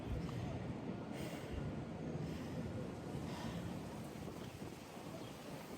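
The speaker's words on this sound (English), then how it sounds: "A little windy too," Wind gusts buffet the microphone outdoors at a running track during a marathon training session, a constant loud rushing roar filling the clip with no voices heard.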